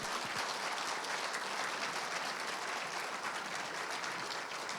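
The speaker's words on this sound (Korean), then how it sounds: "KCO 스트링 퀸텟 여러분 연주자분들께 다시 한번 큰 박수 부탁드리겠습니다" An audience at an awards ceremony gives sustained, full applause for a string quintet's performers, a thick wash of clapping that stays even and loud throughout.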